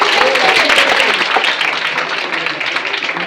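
Sustained applause from a large crowd at a college Teacher's Day ceremony, dense and steady clapping filling the whole stretch with a slight dip midway, murmured voices mixed underneath.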